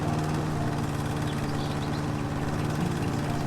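A lawn mower runs in the video game House Flipper, giving a steady, droning engine hum with a buzzy tonal whine and no change in pitch, moderately quiet and without speech.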